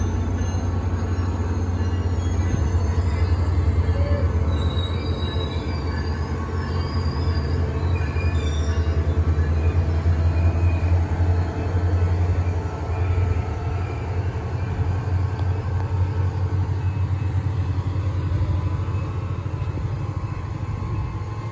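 A train rolls past near the Sanford SunRail and Amtrak station beside a CSX yard, a continuous loud rumble of rail wheels with intermittent squeals and clanks, close by and steady over the whole stretch.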